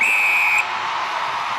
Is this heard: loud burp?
no